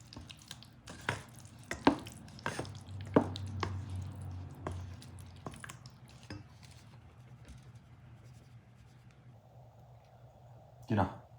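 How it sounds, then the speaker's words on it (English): A spoon works through a sweet potato and pumpkin batter in a bowl for Puerto Rican cazuela, giving irregular close knocks and clinks against the bowl with soft wet stirring between them. "Start mixing."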